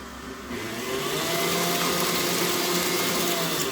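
An electric mixer starts up and runs steadily, a close whirring motor hum beating muffin dough for apple zucchini muffins, rising in pitch as it gets going and holding even with no talk.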